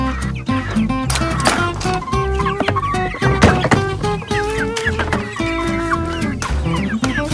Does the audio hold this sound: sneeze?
no